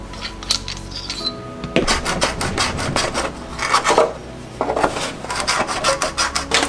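Scraping and filing bursts as holes are enlarged in a Tamiya TT02 Subaru Impreza model car body, close rasping strokes in irregular runs with short pauses between them.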